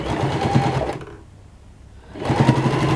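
A sewing machine run with a foot pedal stitches lace with a loud, close mechanical whir. It slows and dies away mid-clip as the pedal is released, then starts up again at full speed.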